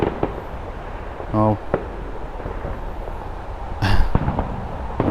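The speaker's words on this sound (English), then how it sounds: "there's fireworks going off everywhere" Fireworks pop and crackle across Liverpool on bonfire night, heard from a distance as scattered dull bangs with a louder burst near the end, and a voice speaks briefly among them.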